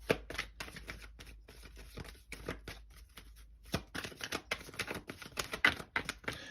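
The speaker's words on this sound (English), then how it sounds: "I'm just shuffling." Quick, crisp riffling and slapping of tarot cards being shuffled in close bursts, with brief pauses between.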